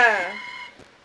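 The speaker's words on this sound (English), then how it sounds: "That's my alarm to take my creatine." A phone alarm plays a rooster crowing, loud and close, one long falling call that fades out, with a brief bit of speech at the end.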